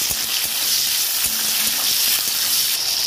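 Cumin seeds, slit green chillies and tomato with salt sizzle in hot oil in a kadai, a steady, close, loud hiss with faint stirring scrapes throughout.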